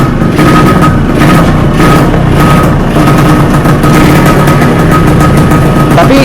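An expensive standard MX underbone motorcycle with a stock exhaust runs steadily at close range, a loud continuous mechanical drone with faint background voices.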